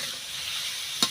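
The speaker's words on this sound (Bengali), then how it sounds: "এবার তেল দিয়ে আমি চিংড়ি মাছটা ভেজে নেবো।" Prawns fry in hot oil in a home kitchen, giving a steady, bright sizzle throughout, close and even, with a short clink near the end.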